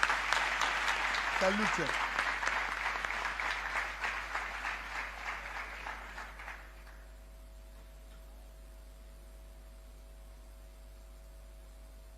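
Audience applause at a ceremony honouring students who failed their tenth and twelfth standard exams, a burst of crowd clapping that fades over about six seconds, after which a faint steady hum remains and a brief spoken phrase is heard.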